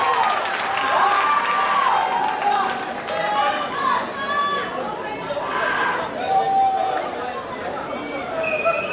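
Crowd applause and cheering after a boxing bout between Dyellyano Gijsbertha and Fakr Eddine Akka, steady and fairly loud, mixed with constant audience chatter and scattered shouts.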